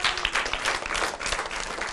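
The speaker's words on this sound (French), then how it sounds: "Applaudissez pour elle." Children applauding in a class setting, a bright, dense burst of rapid clapping that is loud and continuous.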